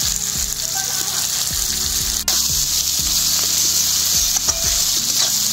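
Spice masala sizzling and frying in oil in a pan, a loud steady crackle with occasional scraping stirs, no talking.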